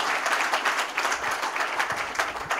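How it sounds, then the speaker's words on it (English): Audience applause at the Woody Guthrie Prize ceremony honoring the Phil Ochs family, a full hall clapping loudly and steadily in an even, sustained wash with no speech over it. "Round of applause for Megan Ochs, the Phil Ochs family, and the great and legendary Phil Ochs."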